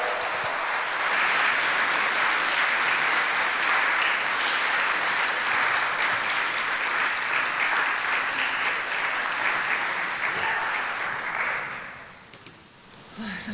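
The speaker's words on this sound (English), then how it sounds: "please give her a big round of applause." A large audience applauds at a horror game award show, with sustained, dense clapping that holds steady for about eleven seconds before fading out.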